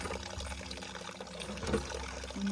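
Water from a drinking spring trickles and dribbles steadily at close range, a soft, continuous splashing flow with faint tonal gurgles and no talk over it.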